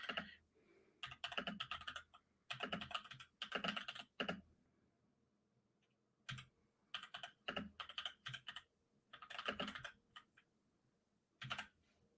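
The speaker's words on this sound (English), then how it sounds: "let me know if you can hear the keyboard. It's a new keyboard on the go there" Clattering keystrokes on a new computer keyboard, arriving in quick irregular bursts separated by short pauses, close and crisp with no talking.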